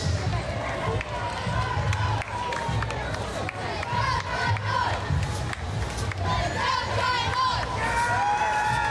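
At a Fourth of July parade in Bloomington, Indiana, a crowd cheers and shouts for a passing middle school cheer squad, with excited voices and whoops over a busy street din and some talk.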